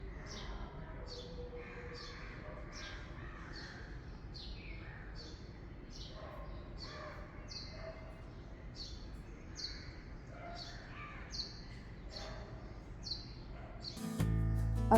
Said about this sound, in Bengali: দেখেন বাইরে কি সুন্দর পাখির কিচিরমিচির আওয়াজ হচ্ছে।